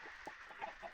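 A redstone chicken from modded Minecraft (Ragnamod VII) gives a few quick, soft clucks in a loose rhythm, faint against a steady hum of background noise.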